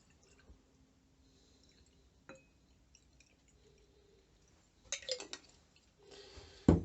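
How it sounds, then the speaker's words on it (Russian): Rubbing alcohol, 90 percent, is poured into a small jar, making faint, quiet dripping and trickling with light glass clinks, including a brief louder burst of liquid and glass sounds near the end. "Берем баночку, заливаем туда спиртику."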